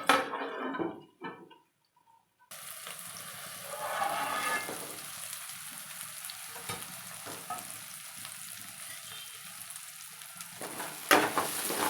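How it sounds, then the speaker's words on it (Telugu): Capsicum cooks in a covered pan for capsicum rice, giving a steady, close sizzle and bubbling after a brief quiet gap, with faint lid and pan knocks near the end. "కొంచెం ఇవి మగ్గే వరకు మూత పెట్టి ఉడికించుకోవాలి"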